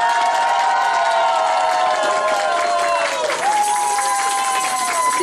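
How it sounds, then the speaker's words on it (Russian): A large audience applauds and cheers loudly at a regional Cossack culture festival, a steady dense wash of clapping and crowd noise blended with sustained tonal music throughout. "Итак, громкие аплодисменты сюда."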